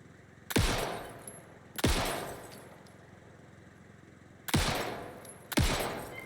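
Four loud, sharp gunshots in Alan Wake II fire at bottles, each blast decaying quickly, in two pairs separated by a pause, with no talking.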